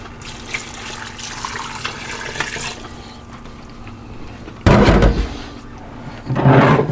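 Water pours into a pressure cooker, a steady splashing stream followed by louder bursts of gushing liquid near the end, with no talking.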